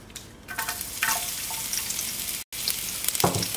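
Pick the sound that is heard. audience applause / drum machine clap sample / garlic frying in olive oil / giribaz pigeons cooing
garlic frying in olive oil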